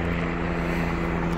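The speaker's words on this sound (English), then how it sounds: "helicopter after helicopter, plane after plane" A propeller aircraft drones steadily overhead above an active lava field near an erupting fissure, a continuous low engine hum with no break across the short stretch.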